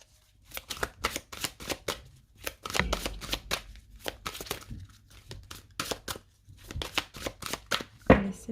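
Tarot cards shuffled and cut by hand, a rapid irregular run of crisp riffling and slapping bursts with brief pauses between, close and fairly quiet, no talk.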